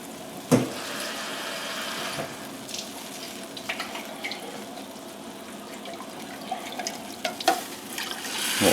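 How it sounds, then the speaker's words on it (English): About half a cup of water runs from a kitchen tap into an emptied tomato can to rinse it, a steady, moderate splashing stream with a few sharper clinks and knocks of the can, heard up close. "Then I'm going to get me about a half a cup of water just to rinse this can out."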